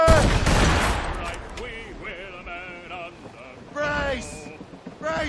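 Ship cannon broadside in Assassin's Creed Rogue: a loud, booming volley opens the stretch and a second burst comes near the end, with shouted crew voices in between.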